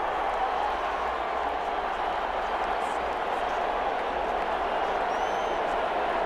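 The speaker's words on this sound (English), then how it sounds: "How about some applause for the defense there?" Crowd applause and cheering roar steadily through a football stadium during a Madden 21 simulation of the San Francisco 49ers against the Los Angeles Rams, a dense continuous wash of sound under a commentator's voice.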